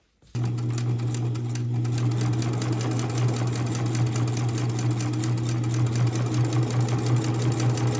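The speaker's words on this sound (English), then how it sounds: "take these to the sewing machine and you want to sew down that folded edge" A sewing machine starts up and runs steadily, stitching a 1/8 inch seam down a folded fabric edge for a notebook cover, with a loud, close, continuous motor whir and rapid needle chatter.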